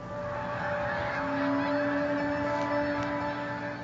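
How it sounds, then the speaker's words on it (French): Geese honking, heard from the air during aerial photography, a few faint distant calls over a steady engine-like drone. "Les oies sont au rendez-vous."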